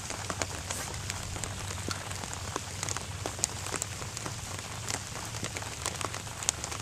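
Steady rain falls outdoors where someone is fishing for perch, a soft, even patter with scattered sharper drops throughout, fairly quiet and uninterrupted, with no voices.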